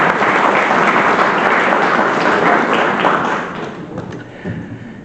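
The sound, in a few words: audience applause at sports awards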